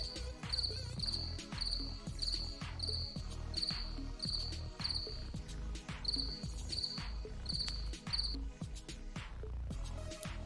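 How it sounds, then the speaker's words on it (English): A cricket chirping sound effect trills in quick, regular bursts, high and clear, repeating over a steady thumping rhythm with no one talking. "Oh, I do have a cricket sound effect."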